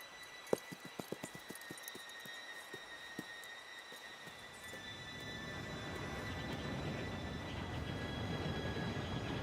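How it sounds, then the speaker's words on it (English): Train approaching in Red Dead Redemption 2, beginning with a run of sharp metallic clanks and squeals that give way to a steadily building rumble, alone with no talk. "Train should be here"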